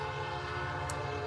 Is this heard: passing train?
yes